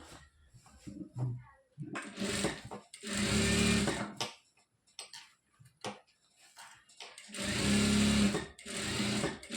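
A sewing machine stitches churidar pants in loud, rhythmic bursts of rapid whirring, separated by short pauses and light handling clatter.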